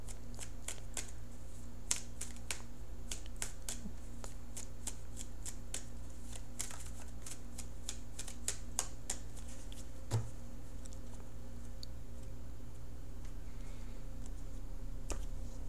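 Tarot cards riffle and snap through a steady shuffle, close and crisp, with repeated sharp flicks and a brief pause midway, no talking.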